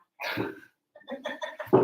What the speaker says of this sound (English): Me coughing is my way of saying stop